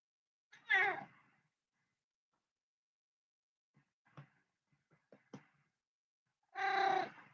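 A cat gives two clear meows, one near the start and one near the end, separated by quiet stretches broken by faint short grunts or chirps, with no talk over it.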